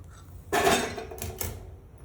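Village chicken is mixed into spicy masala in a metal pot, with one loud scraping clatter followed by two shorter knocks of the spoon, close up and with no talk.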